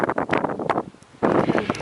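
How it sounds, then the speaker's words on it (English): Strong, cold gusting wind at a waterfall in the Grampians National Park, Australia, buffeting the microphone, loud and roaring, easing for a moment before surging again. "Very windy and cold."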